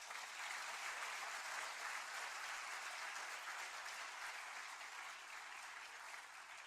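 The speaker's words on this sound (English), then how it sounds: "So would you join me in giving each of them a round of applause?" A symposium audience applauds at a university graduation initiative event, a sustained, even wash of clapping from many hands that holds steady for nearly seven seconds without any speech.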